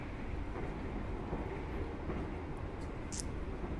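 Inside a Taksaka Luxury third-generation passenger train travelling from Jakarta to Yogyakarta, a steady, loud rumble of the moving carriage fills the cabin, with faint rhythmic track clatter and no talking.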